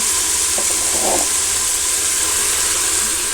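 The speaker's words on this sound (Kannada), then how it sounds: "ಇದು ಐದು ನಿಮಿಷ ಫ್ರೈ ಮಾಡ್ಕೊಳ್ಳಬೇಕು ಟೊಮೊಟೊ ಫ್ರೈ ಆಗಿದೆ" Chopped tomatoes frying in a pan, giving a steady, even sizzling hiss throughout with a couple of faint soft pops near the start and no voices.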